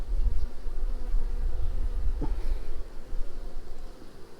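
Honey bees crowd a brood frame of larvae during a hive split, a low steady hum close by with a faint brief knock midway and no voices.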